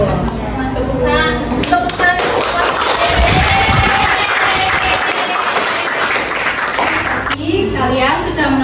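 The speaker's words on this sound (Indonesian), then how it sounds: "Tepukan." A third-grade class claps together in a classroom, a loud burst of many small hands. A teacher's voice rises over the clapping, and children's voices follow.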